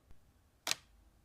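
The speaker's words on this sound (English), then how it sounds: "This is the shutter sound from the Leica with a cloth shutter." A single crisp, quiet click from the cloth focal-plane shutter of a Leica M2 rangefinder film camera firing, preceded by a faint soft tick in near silence.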